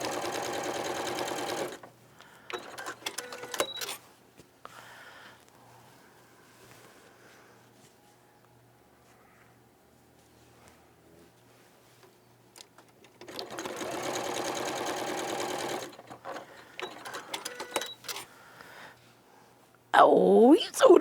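Sewing machine runs in two long bursts of fast, steady close-up whirring stitching, separated by a quiet pause, with a voice speaking at the very end.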